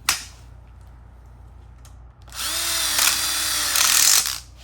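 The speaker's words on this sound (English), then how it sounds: "And one more screw there and we got it." A power drill drives screws during assembly of a telescoping smoker module for an outdoor kitchen, a sustained loud whirring burst that rises in pitch and holds for about two seconds after a short earlier tap.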